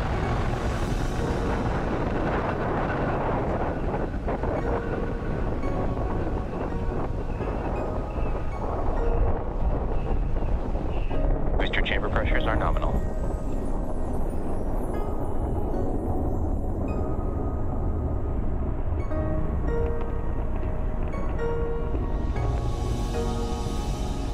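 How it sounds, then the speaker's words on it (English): A SpaceX Falcon Heavy rocket lifts off on the USSF 67 mission with a continuous, heavy roar of its engines. The rumble is loud and unbroken, with crackling texture throughout and no speech over it. "Engine full power. And liftoff of USSF 67."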